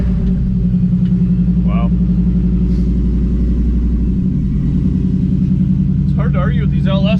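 A 1957 Chevy fitted with an LS engine idles with a steady, deep low rumble that stays loud throughout, briefly shifting in tone near the end, while a person speaks a short exclamation and some faint chatter sits over it.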